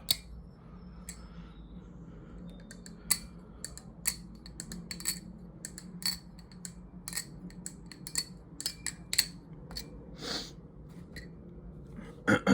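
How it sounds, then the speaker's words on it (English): A balisong butterfly knife flipped repeatedly close by, giving sharp, clacky metallic clicks and rattles in quick irregular bursts over a low steady room hum. "I'll do a quick serif as well. Got that kind of clacky,"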